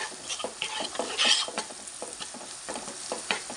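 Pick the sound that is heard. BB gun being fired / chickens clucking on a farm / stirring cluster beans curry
stirring cluster beans curry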